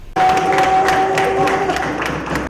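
Large crowd applauding and acclaiming a newly elected national president, a dense, steady wash of clapping and cheering that starts abruptly and continues loud throughout.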